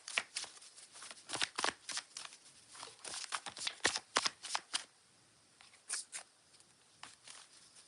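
Tarot cards shuffled and drawn in a run of quick papery riffles and flicks, close and crisp, pausing briefly before a few more sharp card snaps near the end.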